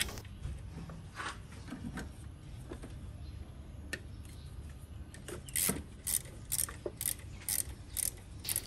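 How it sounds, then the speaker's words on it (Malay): Ratchet wrench loosening a size 12 bolt on the fan belt tensioner of a Toyota Vios NCP93, faint background rumble, then a run of sharp regular clicks near the end, close up. "Skru bahagian atas ni saiz 12."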